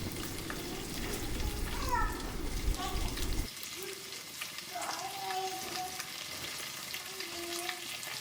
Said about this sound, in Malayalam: അരിഞ്ഞു വെച്ചേക്കുന്ന ഇഞ്ചിയും വെളുത്തുള്ളിയും കരിവേപ്പിലയും പച്ചമുളകും കൂടെ ആഡ് ചെയ്ത് നല്ലോണം